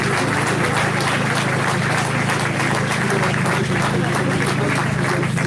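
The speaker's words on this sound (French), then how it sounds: "On peut les applaudir." Crowd applause at a gilets jaunes general assembly in Toulouse, a steady dense clatter of many hands filling the room for several seconds without a break.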